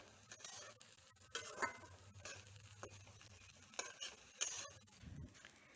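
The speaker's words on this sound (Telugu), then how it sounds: "అంతా కూడా ఒకసారి కలిపేసుకోవాలండి" Jackfruit curry being mixed into a tempering pan, soft scraping stirs and occasional light clinks of a utensil against the pan over a faint sizzle, quiet and close.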